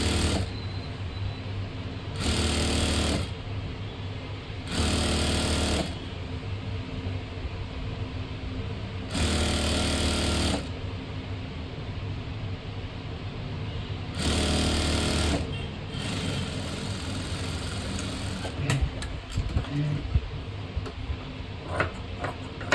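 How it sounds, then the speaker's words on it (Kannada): A sewing machine stitches palazzo pants in five loud, close bursts of rapid rattling, separated by quieter stretches of low room noise and light handling clicks. "ಮತ್ತೆ ಇಲ್ಲಿ ಇನ್ನೊಂದು ಸ್ಟಿಚನ್ನು ಹಾಕೋಣ"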